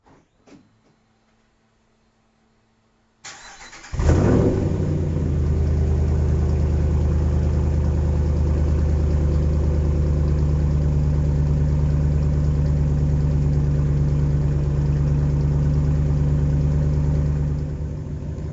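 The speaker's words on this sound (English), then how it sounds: "There's an idled down, or idling down, Carven." Silence, then a car engine starts with a sharp burst and settles into a steady, deep idle rumble through a Carven Progressive TR series muffler, continuing unbroken for over ten seconds.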